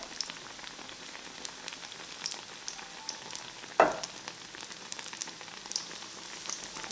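Battered eggplant fritters, Trinidad baiganee, frying in hot oil with a steady close crackling sizzle and scattered pops, plus one sharper splash as a piece goes in.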